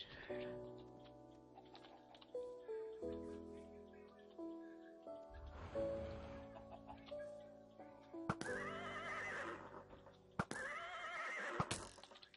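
A Minecraft horse neighs and whinnies over layered background music, with a few sharp clicks and bursts toward the end.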